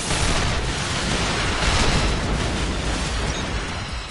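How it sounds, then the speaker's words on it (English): Continuous roaring explosions in the video game Assault Gunner, a dense, loud wall of blasts and rumble with no distinct gaps, steady throughout and slightly fading at the end. "Let me assist you in carrying out my orders with explosions."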